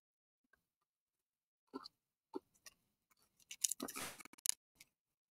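Crunching on frozen flaming marshmallow peaches: a few crisp bites land near the mic, then a dense burst of crackly crunching and a last small crunch, with quiet gaps and no talk.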